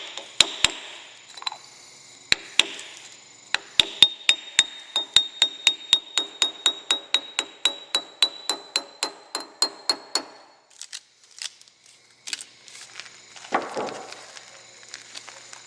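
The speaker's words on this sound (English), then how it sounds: "Carefully tap the dust cap back in place" Light metal tapping as a trailer wheel bearing dust cap is knocked back into place on the hub, a steady run of about twenty-five sharp, close hammer taps that stop partway, followed by a few softer clatters.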